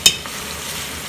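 Onions, garlic and shallots frying in a pot for Senegalese chicken rice: one sharp clatter at the start, then a steady close sizzling hiss.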